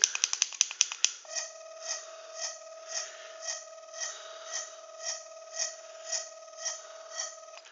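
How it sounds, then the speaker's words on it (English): A Doctor Who sonic screwdriver toy sounds its scanner effect: a quick run of sharp clicks, then a steady electronic tone pulsing in a regular rhythm, loud and close with no voices. "Another scanner sound."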